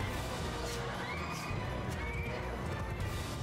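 Horses neigh and whinny repeatedly amid hoof clip-clop and battle noise in the video game Mount & Blade II: Bannerlord, a dense, continuous mix with several calls layered over the din.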